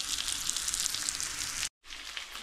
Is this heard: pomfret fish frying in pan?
yes